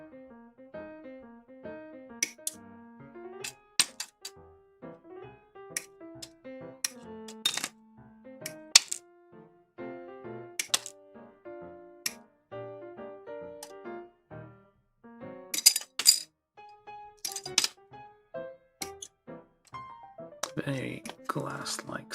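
Hard, brittle plastic runner parts from a 1/144 HG Bandai Gundam kit clink and tick against each other in sharp, glassy taps, scattered irregularly and close, over a soft musical background.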